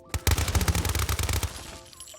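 An American 180 .22 submachine gun, fully upgraded and modded with explosive rounds, fires in a Fallout game. One loud, rapid automatic burst rattles for just over a second, then the shots trail off.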